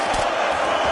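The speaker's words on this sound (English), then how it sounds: "big pop from the crowd there as he beautifully executes that sweep" A crowd at a UFC fight roars in a brief, loud, dense swell of cheering from a large arena audience.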